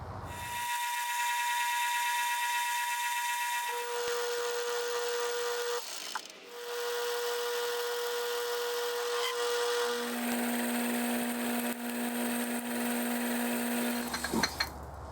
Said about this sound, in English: go ahead and turn this threaded section here down to diameter and go ahead and thread it first